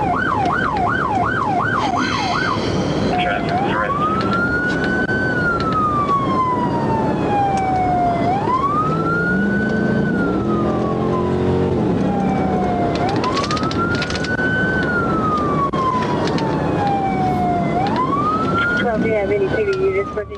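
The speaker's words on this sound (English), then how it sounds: "Lights and sirens flip on" A police car siren wails through a road chase, opening with a quick yelp before settling into loud, steady rising-and-falling sweeps that repeat every few seconds over constant engine and road noise.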